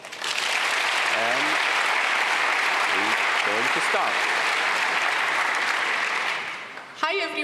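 Conference audience applauding a speaker at a Python lightning-talk session: sustained dense clapping that fades near the end, with a few voices talking over it and a short spoken phrase as it dies out.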